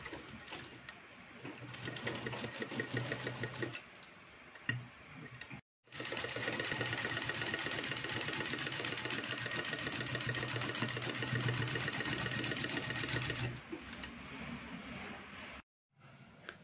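A sewing machine stitching a second seam over a designer lehenga, running in long steady whirring bursts with brief stops between them, close and loud, with no talking.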